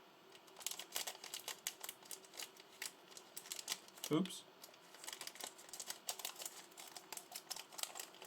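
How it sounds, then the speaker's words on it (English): A tiny plastic bag of Lego Speed Champions parts for the Audi Sport quattro S1 set 76897 is handled and pulled at close by, giving soft crinkles, small clicks and scratches with one sharper rustle midway. A brief spoken word is heard. "we open this tiny plastic bag with tiny parts"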